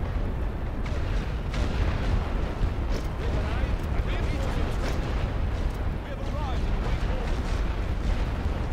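An artillery barrage in the World War I strategy game The Great War: Western Front rumbles as a dense, continuous wash of booms and blasts, with a voice talking over it.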